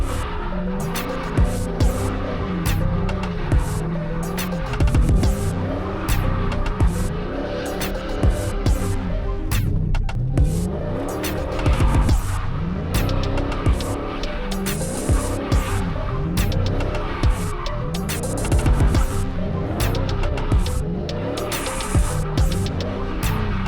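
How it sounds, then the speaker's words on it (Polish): A Dodge Charger drives in with a sustained engine roar and rising and falling revs, tires squealing and skidding in repeated bursts as it maneuvers, loud and close throughout. "Niech Charger wjeżdża."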